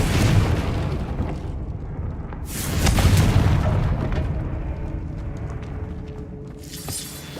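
A Confringo fire spell bursts in Hogwarts Legacy, giving loud booming explosions with a swelling blast in the middle and rumbling game effects fading out, with no talk.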